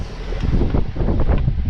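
Strong storm wind buffets a sailboat at sea off the coast near Amalfi, a loud, steady roar with gusting surges and churning water throughout.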